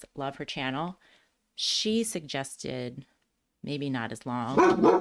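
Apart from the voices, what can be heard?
dog barking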